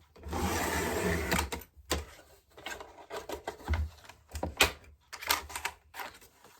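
Base cardstock being cut down to size for a handmade construction card, a sustained scraping cut followed by a run of shorter rasping strokes and rustles, close and fairly quiet, with no talking.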